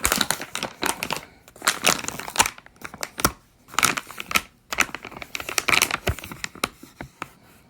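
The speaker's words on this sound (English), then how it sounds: "here comes the unboxing of the Cube pillow. Or maybe it's the unwrapping." Plastic packaging around a Pillow Cube memory foam pillow being unwrapped, giving close, bursty crinkling and tearing in irregular handfuls with short pauses between.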